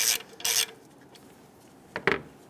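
Socket work on the oil pressure switch of a 2012-2017 Toyota Camry 2.5L four-cylinder with a 24mm socket gives short, raspy scraping bursts, two near the start and two more near the end, with quiet gaps between.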